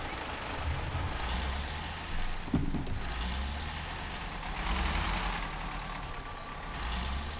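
A heavy, top-heavy truck grinding off-road in SnowRunner, its engine droning steadily with a low rumble that swells and eases as it bounces over rough ground.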